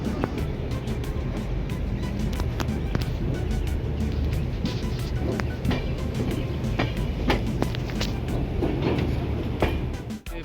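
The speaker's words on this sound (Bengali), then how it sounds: "বালেশ্বর থেকে ছেড়ে দিয়েছে ট্রেন আমাদের" A passenger train running at speed after leaving Balasore, a loud continuous rumble heard from inside with repeated clickety-clack wheel beats over rail joints throughout, no talk.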